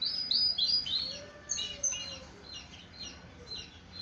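A yellow Shirazi clustered canary sings in its cage, a quiet run of bright chirps and short trills in quick bursts, then softer scattered notes over faint background noise.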